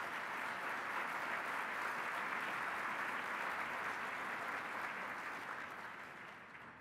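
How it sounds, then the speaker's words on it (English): Sustained applause from a seated audience at a Martin Luther King Jr. luncheon, a dense, even wash of clapping heard from some distance that gradually tapers off near the end. "please, one more time, give them an applause"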